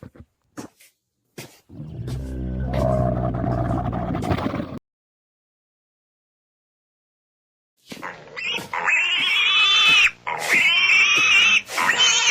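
A pig grunts and squeals in loud, harmonic bursts, a rough low call followed by two sustained high squeals after a short silence.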